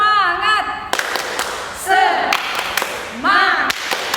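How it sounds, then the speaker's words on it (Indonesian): A group at a Sunday school worship service claps together in a rhythmic spirit clap, with sharp, loud bursts of claps between stretches of chanted voices. "mari kita tepuk semangat"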